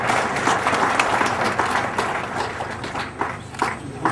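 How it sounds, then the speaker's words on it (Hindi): Sustained, dense applause from an audience at a state conference of the Chhattisgarh Shramjivi Patrakar Sangh journalists' union, loud and continuous throughout, with no speech over it. "जोरदार ताली बजाएं।"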